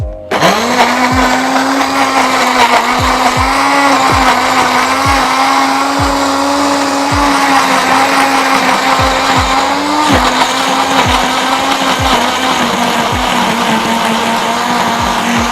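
A blender runs continuously at a loud, steady whine while blending green curry paste, with a slight drop in pitch partway through and repeated low thumps as the ingredients knock against the jar.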